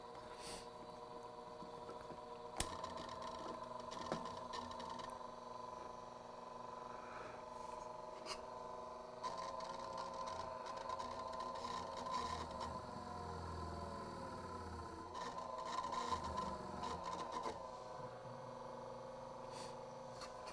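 A repaired blower fan motor runs rough and steady for the whole stretch, a low droning hum with uneven rattling texture and occasional clicks and bumps, fairly quiet and close.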